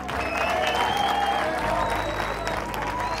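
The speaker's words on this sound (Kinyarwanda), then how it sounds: "Mumuhe amashyi menshi cyane." A school crowd at a Rayon Sports visit to G.S Muhato claps for the club's head coach, a dense, loud and sustained round of applause without speech.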